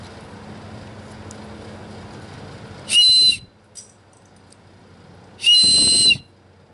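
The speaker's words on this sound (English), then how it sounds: "doesn't sound exactly like a whistle. It's at a very high pitch." A high-pitched survival kit whistle, made in China with cordage attached, is blown in two loud, shrill bursts of about half a second each, separated by a pause, over a quiet background.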